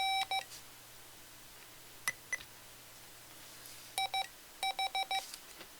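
Mr. Rags macro keyer giving short electronic beeps, a single beep near the start, then a few scattered chirps, and clustered runs of rapid evenly spaced tones toward the end, faint against a quiet background.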